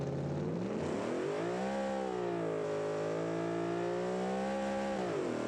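A muscle car with more than 1,000 horsepower, run in manual mode in the BeamNG driving game, revs hard on launch: one loud, steady engine drone that holds high, dips, then climbs again, with no talk over it.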